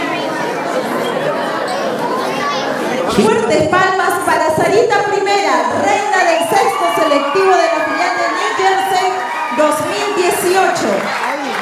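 A festive crowd at a queen's coronation cheers, whoops and chatters continuously, with children shouting in the mix and a louder swell of cheering midway that stays lively to the end.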